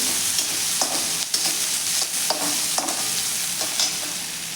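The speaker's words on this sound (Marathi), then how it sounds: "आता आपण हे व्यवस्थित असं मिनिटभर असं परतून घ्यायचं आहे" Cut vegetables sautéing with asafoetida in a pan for soybean pulao, an even hiss of frying broken by regular spatula scrapes and taps, no talking.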